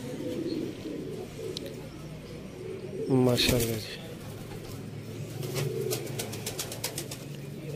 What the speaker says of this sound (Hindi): ये फेमस कबूतर है